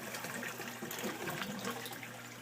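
Water pours steadily from the standpipe of an air lift pump in a bio shelter, a continuous close splashing and gushing stream with no pauses.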